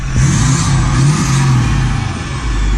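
A Ford F250 with a cab dump exhaust revs up close and loud, its deep rumble swelling and easing with a faint turbo whine on top.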